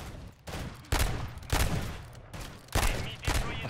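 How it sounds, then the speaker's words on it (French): Gunfire from a weapon in a video game, several loud broadband bursts spaced roughly half a second to a second apart, each with a sharp attack and short decay, heard alone without talk. "y a un délai de fou quand tu tires avec cette arme"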